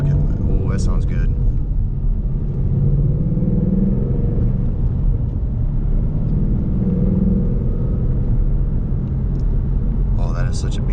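A Ford Mustang GT rumbles with a deep, loud low-end growl that swells and eases, while people talk over it at the start and the end.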